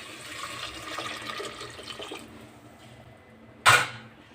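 Water is poured steadily into a cooking pot of carrots and turmeric for a dal curry, a soft continuous splashing that fades out before a brief sharp clatter near the end.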